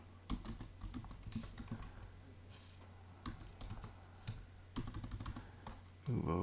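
Typing on a computer keyboard, a quiet, close run of irregular clicky keystrokes in bursts with short pauses, ending with a heavier thump, no talking.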